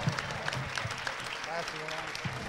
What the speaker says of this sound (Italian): Un altro grande applauso ad Alberto!